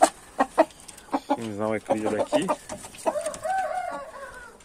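A young rooster crows at a backyard poultry farm in mid-afternoon, its strained call rising near the end after clucking and bird noise, with someone speaking Portuguese over it.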